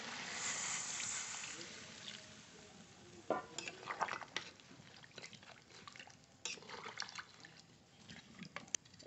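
Water poured into a pan of browned chicken pieces with fried potatoes, giving a soft hiss at first, then scattered utensil clinks and stirring clatter, faint and close.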